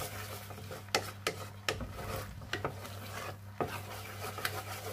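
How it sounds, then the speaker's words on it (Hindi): Almond halwa being stirred continuously in a pan, giving soft repeated scraping and rubbing strokes with occasional sharper utensil knocks against the pan, close and moderately quiet over a steady low hum. "इसी तरह लगातार हलवे को चलाते रहें।"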